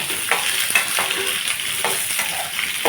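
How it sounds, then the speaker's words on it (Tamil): Sliced onions with salt sautéing in a pan for a spicy kara chutney, a loud continuous sizzle with rhythmic stirring scrapes roughly every half second. "வெங்காயத்தை போட்டு நீங்கள் வதக்கிக்கோங்க"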